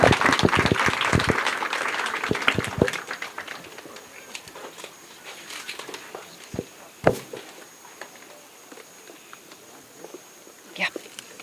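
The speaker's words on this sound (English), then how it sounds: "a round of applause." Audience clapping at a World Parkinson's Day walkathon event welcomes a member of parliament: about three seconds of dense, loud applause, then thinning to scattered single claps with faint voices and movement in the background.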